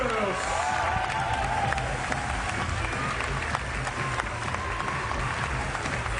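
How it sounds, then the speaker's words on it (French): Stadium crowd applauding and cheering for a pole vault athlete at an all-star pole vault meet in Lausanne, a steady, dense wash of clapping with a faint voice over the top. "On va l'applaudir très fort, Ben Browders."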